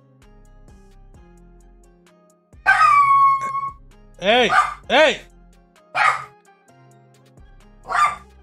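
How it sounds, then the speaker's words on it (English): Dogs bark in a few sharp, loud bursts spaced over several seconds, with someone speaking briefly between them against a quiet background. "These damn dogs"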